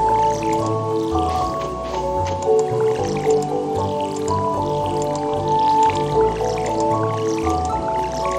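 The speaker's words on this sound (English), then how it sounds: "I'll just water these four lots of crops first." Crops are watered in Stardew Valley as a soft, continuous gurgle of pouring and dripping liquid plays for several seconds over a steady game music bed, moderately loud, with no talking.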